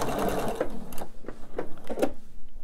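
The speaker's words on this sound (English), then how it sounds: "I'm going to sew these in the same manner." A sewing machine stitching fabric seams slowly, its needle running in a steady, close mechanical chatter with a few brief pauses and faint handling noises.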